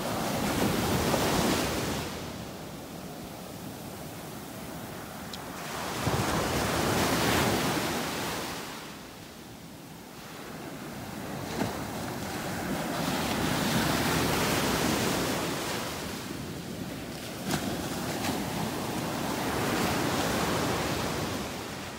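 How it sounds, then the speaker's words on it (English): Ocean waves break on a beach in North Naples, Florida, surging in broad swells roughly every five seconds, with steady wash and some wind noise between the crests and no voices. "Those waves are churning up the red tide."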